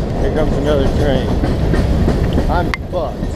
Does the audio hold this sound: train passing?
yes